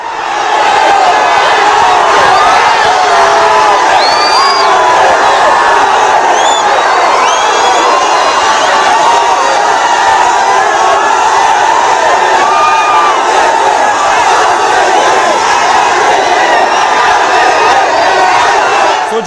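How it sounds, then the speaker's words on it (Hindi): A huge crowd of about three hundred thousand cheers and shouts continuously to welcome the RCB team bus after an IPL win, a loud, dense roar with whistles and whoops rising above it throughout. "3 लाख की भीड़ पहुंच गई वेलकम करने के लिए अपनी टीम को"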